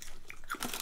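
A bite into a thin, crispy Spanish snack gives a brief close crunch and crackle, quick and sharp with no talk over it.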